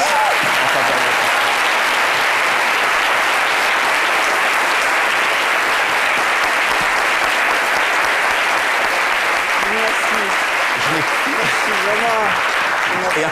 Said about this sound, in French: Et à travers tous ces applaudissements